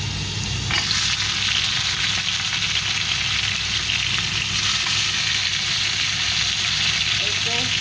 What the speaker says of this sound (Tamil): வெங்காயம் வதங்கி வந்துட்டு இப்போ இந்த டைமில் தக்காளி பழத்தை போடப்போம்.